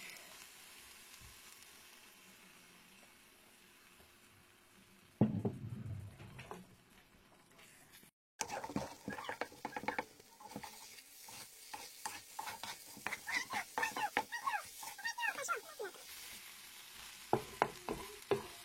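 Eggs poured over chopped zucchini in a hot pan sizzle steadily, then a spatula or spoon scrapes and stirs the scramble in rapid, uneven strokes, close and fairly loud with no talking.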